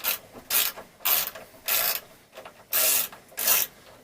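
A ratchet with a 10mm socket on an extension works a fastener on a snowblower, giving bursts of rapid clicking in a quick back-and-forth rhythm, about seven strokes, close and loud with no talking.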